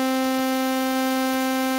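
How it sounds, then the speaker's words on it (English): Digitone FM synth voice with feedback pushed high, holding a steady buzzing tone whose stacked harmonics are smeared into a broad hiss of white noise, continuous and loud throughout. "here we're getting to the point where we're starting to hear white noise."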